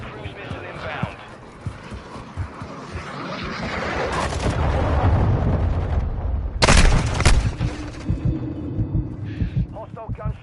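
Cruise missile strike explosions in the shooter Modern Warfare 2, a rising rumble building to heavy booming blasts, with one sharp loud burst near the middle, mixed with gunfire and a voice talking over parts of it.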